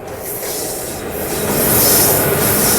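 Coaches of the Mithila Express train, running from Raxaul to Howrah, couple together with a loud, continuous grinding rub and metallic wheel squeal that swells toward the end, with no voices.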